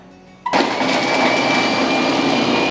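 Wonderchef Chef Magic food processor with its multifunction blade chopping onions, starting abruptly into a steady loud motor whir that holds for about two seconds before cutting off sharply.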